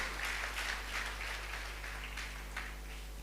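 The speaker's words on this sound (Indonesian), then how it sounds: "Tepuk tangannya boleh yang paling meriah buat Tuhan kita." Church congregation applauding: dense, sustained clapping from a crowd, steady and moderately loud throughout, tapering slightly at the close.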